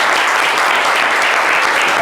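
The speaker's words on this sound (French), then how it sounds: "Applaudissements pour Shekina Yatos, s'il vous plaît." An audience applauds a guest on a French-language talk show, dense steady clapping from a crowd, loud and continuous with no talk over it.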